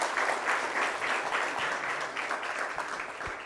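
Applause from the audience at a West Rand school debate competition, a thick, even round of clapping from many people at moderate loudness, holding steady and easing slightly toward the end.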